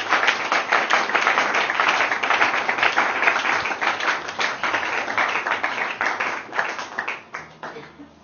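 Congregation applauding the Lord during a church service, a dense sustained wash of clapping from many hands that holds steady and loud, then thins toward the end.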